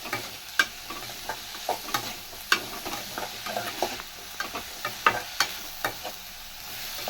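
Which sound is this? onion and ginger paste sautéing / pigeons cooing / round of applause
onion and ginger paste sautéing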